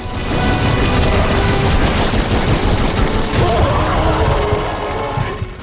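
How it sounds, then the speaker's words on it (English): Sustained loud automatic gunfire with rounds ricocheting in the video game Too Human, a dense continuous rattle of rapid shots and impacts that barely lets up for several seconds. "I do see the rounds bouncing off, but I'm not sure they're hitting anything."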